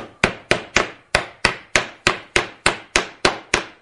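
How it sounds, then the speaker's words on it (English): Steady hammer taps driving hinge dowels into a wooden glass panel door, about a dozen sharp, evenly spaced knocks, close and fairly loud with no talking. "insert that hinge where the 2 dowels line up and take a hammer"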